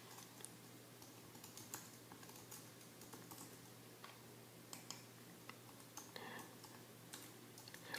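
Username and password being typed on a computer keyboard, a faint, quick run of light key clicks in irregular bursts against a quiet room hum.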